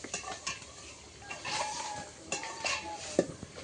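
Potatoes and meat in spices are stirred in a pot with continuous scraping and clinking of a spoon against metal and a faint sizzle underneath.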